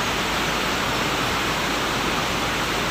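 Galunggung waterfall in Indonesia roars as a steady, loud, dense rush of falling water that fills the air continuously without a break.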